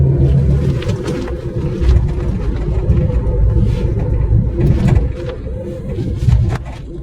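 A 1996 Fiat Punto with a 55 hp engine drives along, its low steady engine rumble and road noise filling the cabin, loud and continuous with slight rises in pitch.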